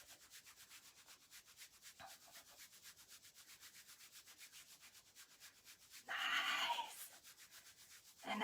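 Hands rubbing rhythmically over leg muscles during a family massage, a soft repeated brushing stroke at a steady pace, faint and close, with a louder rubbing burst near the end.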